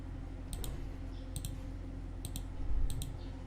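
Mouse clicks while stepping through a Windows software installer, four distinct double clicks spaced about a second apart, crisp and close over a low steady hum, with no talking.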